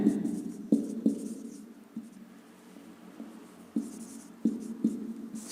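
Chalk or marker strokes on a board during a Hindi lesson, coming as a series of short tapping, scraping marks at irregular intervals, fairly close, with a quiet room tone between strokes.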